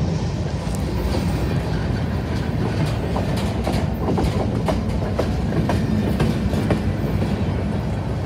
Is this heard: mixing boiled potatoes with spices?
no